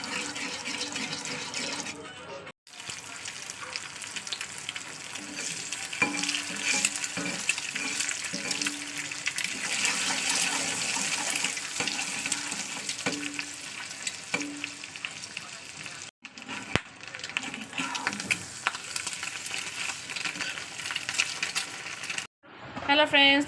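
Lentils boiling in a pot over a high gas flame, a steady bubbling and hissing roar that fills the clip at close range, broken by a couple of brief gaps, with no voices.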